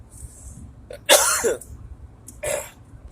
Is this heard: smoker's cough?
yes